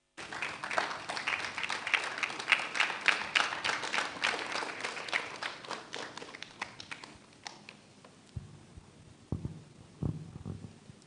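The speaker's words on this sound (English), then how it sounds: "So with a round of applause, shall we invite the representative of the minister, Dr. Mrs. Martha Jansa-Luthor." An audience at a pharmacists' college event claps steadily for several seconds, then the applause thins out and fades, with scattered taps and faint background sounds near the end.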